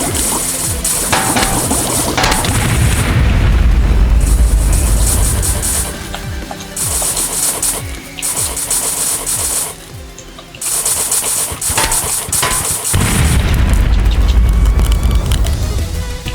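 Explosions in a Minecraft Plants vs Zombies mod come as repeated loud, noisy bursts with deep rumbling tails, separated by short quieter gaps, with no talking.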